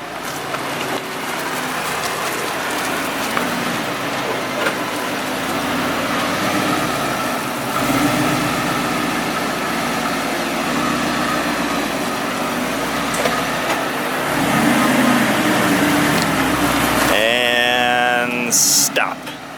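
A sports car, either a Nissan GT-R or an Audi R8, makes a three-point turn in a driveway, its engine idling and murmuring at low revs as it creeps back and forth, close by, with brief voices near the end.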